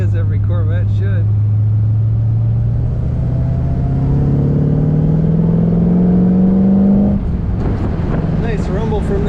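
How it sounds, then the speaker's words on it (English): A 1973 Chevrolet Corvette convertible rumbles while driving, a loud low exhaust note rising steadily in pitch as the car accelerates, then dropping off, with someone talking over the start and end. "Nice rumble from that exhaust."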